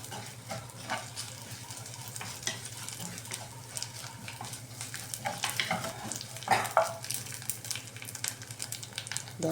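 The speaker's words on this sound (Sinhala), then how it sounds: "දැන් අපි මේක හොඳට තෙලේ ටෙම්පරාදු කරගමු." Onion pieces and spices tempering in hot oil in a pan for Sri Lankan seeni sambola, a continuous crackling sizzle with occasional stirring scrapes, close and moderately loud with no talk.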